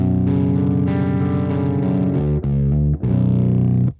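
Electric guitar run through the effects loop of a Boss HM-2 distortion pedal, loud and heavily distorted, with sustained chugging chords, brief cuts between riffs, and no talking.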